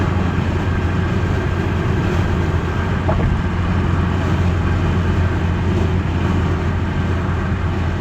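A 1988 Ford Ranger XLT pickup with a 2.3L engine driving along, a loud, steady low engine and road rumble filling the cabin with no pauses or voices.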